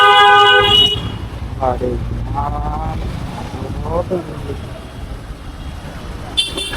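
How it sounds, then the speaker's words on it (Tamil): Heavy Chennai road traffic rumbles close by, with a loud car horn blaring at the start and another brief honk near the end, while someone talks over the traffic noise. "ஏற்கனவே டிராஃபிக்காக இருக்குது. நடு ரோட்டில் நின்று பேசிட்டுருக்கோம்"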